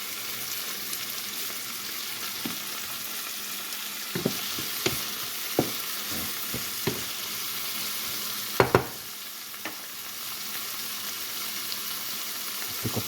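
Food sizzles in a hot pan as garlic and herb seasoning goes in, a steady hiss broken by scattered crackles and pops, with no talking.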